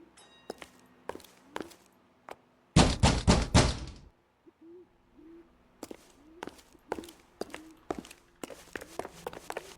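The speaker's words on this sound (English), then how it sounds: "Let's knock on Gabriel's door," Knocks on a door in the video game L.A. Noire: a few sharp raps at close range, then a quick louder burst of knocking, with scattered thuds and footsteps afterward in a quiet room.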